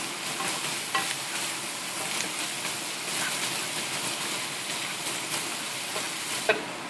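Sliced shallots sizzle steadily in melted butter in a pan while being stirred, a continuous close crackle with small scraping accents throughout.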